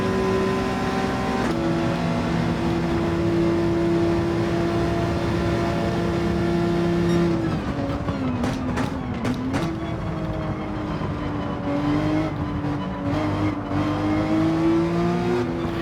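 A GT3 race car in Gran Turismo 7 sends out a loud, steady engine drone that drops abruptly when the throttle lifts. It then climbs back through a series of revving pitch sweeps and gear changes as the car accelerates.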